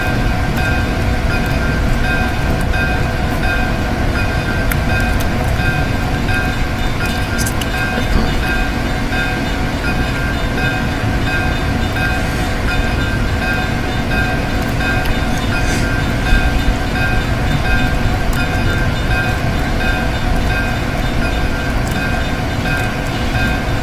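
Union Pacific 3985 steam locomotive in the Open Rails simulator rolls steadily over Tehachapi Pass near Bakersfield, a continuous dense rumble with rail clatter and faint whistle-like tones, loud and unbroken throughout.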